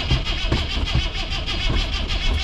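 A Land Rover Series III diesel engine cranks repeatedly without catching, the starter churning in a steady rhythmic chug, loud and close.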